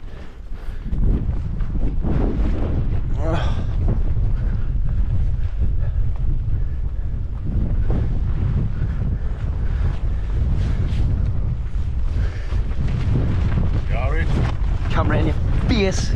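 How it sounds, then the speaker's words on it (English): Strong wind on misty moorland buffets the microphone with a constant low roar and gusts, while voices talk intermittently over it. "Why is it always windy?"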